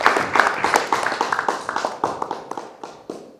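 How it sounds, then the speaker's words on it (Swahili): Rhythmic clapping for a prime minister at a gathering celebrating the Taifa Stars national football team, sharp hand claps in a quick, uneven beat from a small group nearby, fading slightly toward the end. "Jamani, makofi mengi sana kwa kiongozi wetu."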